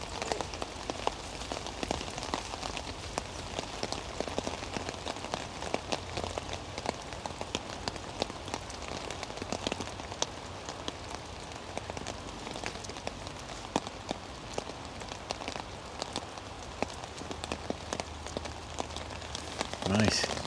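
Steady rain pours down at an outdoor match fishing final, a dense continuous patter on surfaces and gear with scattered louder drops, no clear voices over it.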